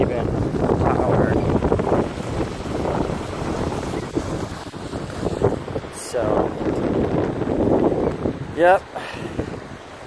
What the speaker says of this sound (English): you have all the waves over here, beautiful.